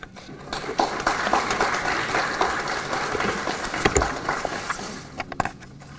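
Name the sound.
audience applause at graduation pinning ceremony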